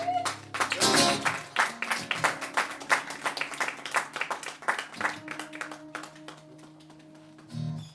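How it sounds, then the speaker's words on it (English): Live audience at a late-night music gig in a small venue giving a short, fairly subdued round of applause, steady scattered clapping that thins out before a voice comes in near the end. "Slightly muted applause as it getting late."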